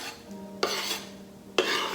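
Chopped shrimp ceviche ingredients dropped and scraped into a bowl, with two distinct clattering hits against the dish and soft rubbing in between.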